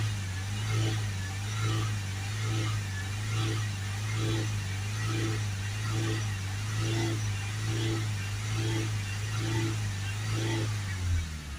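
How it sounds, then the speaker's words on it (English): A diesel Ford Transit van engine with a blocked DPF runs steadily with a low drone and a regular pulsing rhythm, held near 3000 RPM and revving slightly up and down under constant background noise. "I'll give it some revs, up and down."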